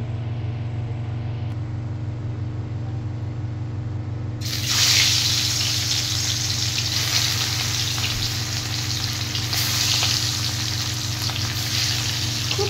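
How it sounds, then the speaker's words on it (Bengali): Hilsa fish pieces slipped one by one into hot oil in a wok, a low background hum giving way to a loud, sudden, continuous sizzle that holds steady with small crackles, close by. "এবার একে একে ইলিশ মাছগুলো ভেজে নেব।"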